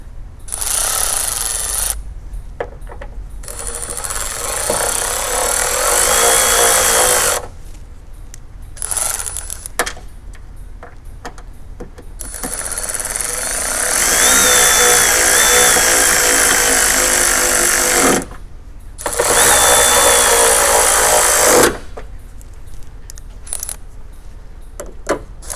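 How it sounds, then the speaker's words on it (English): Power tool running bolts back into a 2008 Saturn Vue during an LED headlight installation, loud bursts of whirring and rattling in several long runs separated by short pauses. "So we'll just get our bolts back in here."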